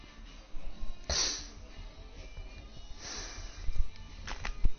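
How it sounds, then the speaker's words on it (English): Someone sniffles close up, with a sharp nasal intake, then several short sniffs and snorts spread over a few seconds against quiet background noise. "Excuse the sniffles."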